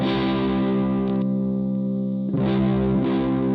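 Distorted electric guitar chords through hot, bass-heavy pickups with a treble bleed capacitor on the volume control. The sound is loud and close, with a sustained chord, a brief dip, then a fresh strummed attack and ringing decay.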